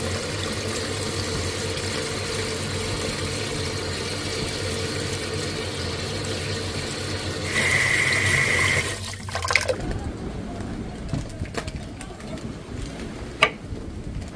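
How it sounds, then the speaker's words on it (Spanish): Water is poured at home, a steady rushing splash lasting several seconds amid a noisy background, then breaking off into quieter room sounds with a few sharp knocks. "Ahora en casa echarle agua."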